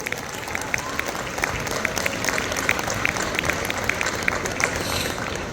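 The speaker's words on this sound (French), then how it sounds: "On peut applaudir s'il vous plaît." Audience applause at a French voice-dubbing talk, a loud, dense, steady clatter of many hands that fills the whole stretch, with sharper individual claps popping through.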